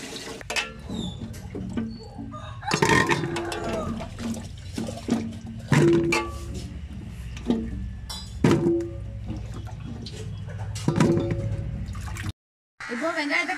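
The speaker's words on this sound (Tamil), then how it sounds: "வெங்காயத்தை உரிச்சு வேற பாத்திரத்தில் வந்து நல்லா கழுவி நம்ம சின்ன பாத்திரத்தில் எடுத்து வச்சுக்கலாம்" Peeled onions being washed by hand in water in a vessel, with splashing, sloshing and dripping sounds in irregular bursts, close by and fairly loud, without talk.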